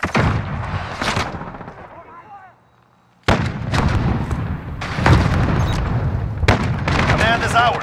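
Gunfire in Call of Duty Modern Warfare during a Team Deathmatch match, with loud, close bursts of shots and booming blasts separated by a short lull, and in-game voices calling out between the shots.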